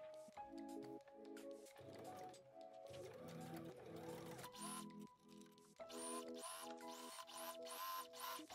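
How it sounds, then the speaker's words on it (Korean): A sewing machine stitches the seams of an oversized shirt jacket, running in short mechanical bursts with pauses between, close and fairly faint. "봉제 후엔 오버루크로 정리하고 시접을 몸판 쪽으로 넘겨 스티치 봉제합니다."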